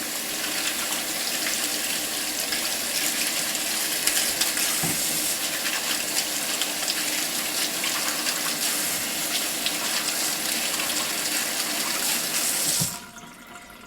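Beets scrubbed with a vegetable scrubber under a running kitchen tap, a continuous loud rush of water with brushing texture that cuts off near the end.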